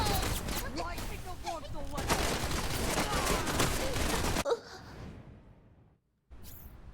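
Rapid PPSh submachine gun bursts in a first-person shooter, a dense loud rattle for about four seconds that cuts off abruptly, followed by quieter in-game ambience with talk mixed in.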